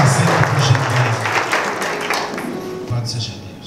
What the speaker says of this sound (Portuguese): Aplaude bem forte o nome do Senhor.